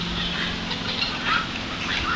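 A flock of Cayuga and runner ducks quacks in soft, scattered calls over a steady outdoor hiss, with the quacks fairly faint and close together.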